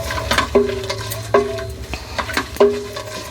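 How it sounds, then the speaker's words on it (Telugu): Vermicelli for sheer kurma frying and being stirred in a pan, with a sizzling bed under repeated scraping strokes of a utensil against the metal, about four distinct strokes, close and fairly loud, no talking. "చూడండి, ఇట్లా మంచిగా వేయించుకోవాలి మనం."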